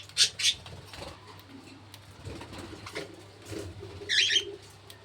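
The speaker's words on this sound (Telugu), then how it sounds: "మిగతా లవ్ బర్డ్స్ అన్నీ వచ్చేసి ప్లేట్లో తింటాయి." Lovebirds in a cage colony give a few short, sharp chirps near the start and again toward the end, over a faint, low background hum.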